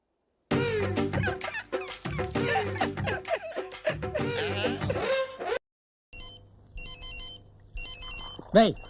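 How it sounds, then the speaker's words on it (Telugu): A phone ringtone in a Telugu comedy scene plays as repeated short electronic chirping bursts at moderate volume, starting just after a stretch of lively talk ends, with a brief voice cutting in near the end. "ఫోన్ మోగుతుంటే ఎత్తావే?"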